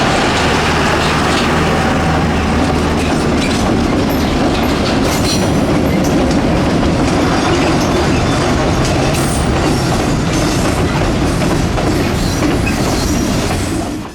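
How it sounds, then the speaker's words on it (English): CF7 diesel locomotives working hard with a baby blue end-cab unit on the Florida Midland Railroad at Babson Park, a steady loud rumble of engines and rolling wagons with clickety-clack and wheel squeal throughout. "I couldn't get over the leading CF7 working hard alongside the baby blue end cab"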